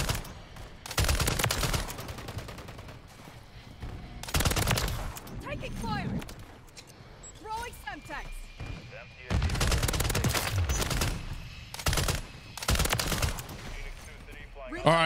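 Bursts of heavy machine-gun fire from a RAAL MG in Call of Duty: Modern Warfare III, with loud sustained volleys repeating between shorter gaps and scattered game sounds in between.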